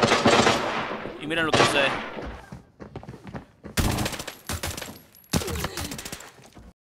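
Bursts of rapid gunfire in the video game Arena Breakout crackle in sharp clusters, interrupted by someone talking between the volleys.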